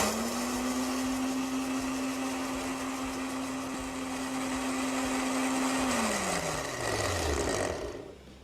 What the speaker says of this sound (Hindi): मशीन को ब्लेंडर जार के ऊपर लगाने के बाद 30 से 40 सेकंड तक चला लेंगे।